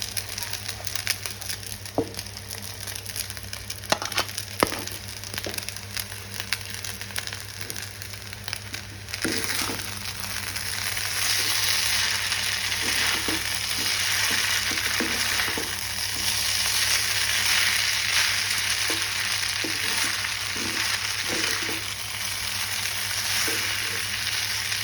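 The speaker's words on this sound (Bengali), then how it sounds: "সবজিটা নরম হয়ে এসছে, এবার আমি রাইস নুডলগুলো দিয়ে দিচ্ছি" Rice noodles are added to softened vegetables frying in a pan, giving a steady close sizzle with scattered stirring clicks and scrapes. The sizzle grows louder and denser about midway, and no one talks.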